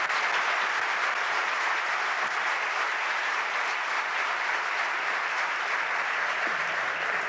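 Steady, even applause from an entrepreneurs' gathering with Obama at La Usina, rewarding a presentation, a continuous moderately distant wash of many hands clapping with no break.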